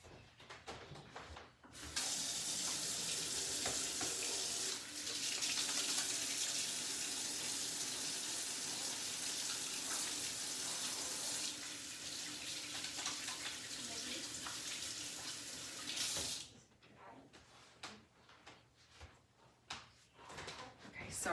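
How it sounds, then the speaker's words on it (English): Kitchen tap running while hands are washed, a steady, close rush of water lasting most of the clip, starting and stopping abruptly, with faint handling noises before and after. "I have to wash my hands."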